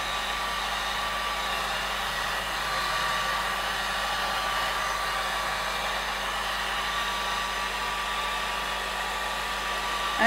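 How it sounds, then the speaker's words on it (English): A hair dryer blows continuously over alcohol ink artwork, a loud, even whir that holds steady for the whole stretch with no talking. "And then I will use my dryer and dry this thing"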